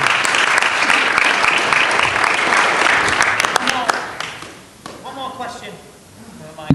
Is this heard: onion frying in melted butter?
no